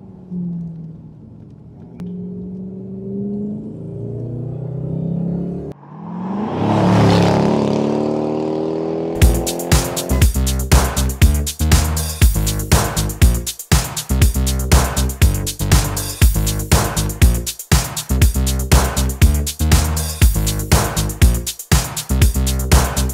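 Jaguar XK8 V8 engine starting and settling into a loud, close, steady idle with a pulsing rhythm, after some quieter movement at first.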